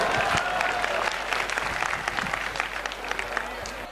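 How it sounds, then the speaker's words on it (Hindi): An audience at a nighttime Sanatan Hindu unity march event applauds, a dense wash of many hands clapping at once, loud at first and tapering slightly, with a voice faintly underneath. "जोरदार ताली बजा करके"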